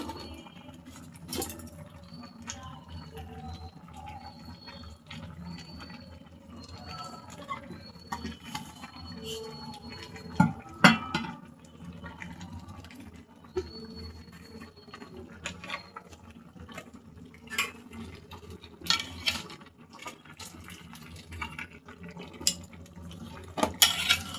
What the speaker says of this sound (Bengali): জিরা এবং গরম মশলা দিয়ে আমি একটু নেড়ে দিচ্ছি।